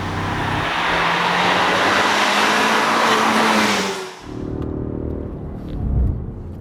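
A Ford EcoBoost Mustang accelerates hard, its engine note climbing loudly, then cuts off sharply for a short-shifted gear change before pulling again at lower revs.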